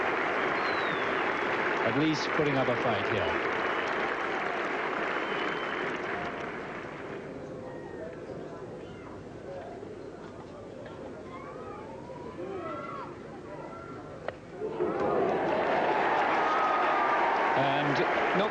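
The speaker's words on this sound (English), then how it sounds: "To a great cheer from this Yorkshire crowd" Yorkshire cricket crowd at an England versus Australia test match roaring and applauding at length, fading to murmur beneath a commentator's voice, then swelling into another loud burst of cheering.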